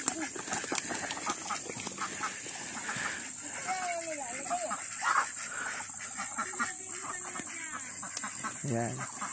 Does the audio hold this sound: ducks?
yes